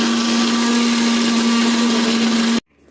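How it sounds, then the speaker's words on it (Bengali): A mixer grinder grinds garlic and green chili into a paste, a loud, steady, high-pitched motor whine that runs continuously and then cuts off abruptly near the end. "রসুন লঙ্কা দিয়ে মিক্সিতে বা শিলনোড়ায় বাটা যায়"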